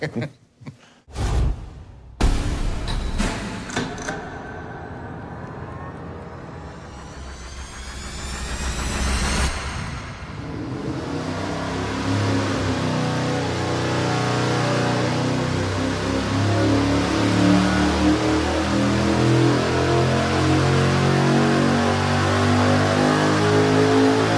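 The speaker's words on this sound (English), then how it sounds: "We're gonna fire it up now and run the thing without the nitrous and just get ourselves a baseline" An engine on a dyno, run without nitrous, fires up with a few sharp bursts, then revs up and settles into a loud, steady full-throttle roar that holds strong for about fifteen seconds.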